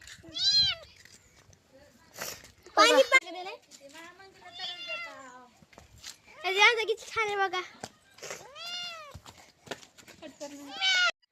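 Repeated meows from a cat, several short rising-and-falling cries spaced across the clip, mixed with people talking nearby.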